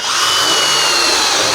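A power drill drives screws through a metal gutter to secure a downspout nozzle from outside, a single loud, steady whir that runs without a break and cuts off sharply at the end.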